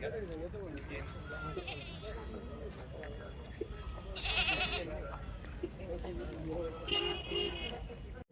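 Katewadi goats bleat at a busy goat market in Chalisgaon, with a few short bleats rising over someone talking throughout and general crowd murmur.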